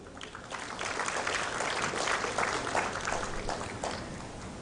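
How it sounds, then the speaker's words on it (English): Sustained applause from a conference audience in a hall, a dense, even wash of clapping that holds steady for several seconds before easing slightly at the end. "let's clap ourselves that we are tourists"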